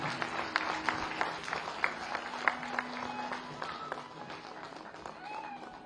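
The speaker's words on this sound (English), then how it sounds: "I request you to give a great round of applause for this memorable" Conference audience applauding at an annual medical association meeting, a steady dense patter of many hands clapping that carries through the whole stretch at moderate loudness, with a hum of crowd noise underneath.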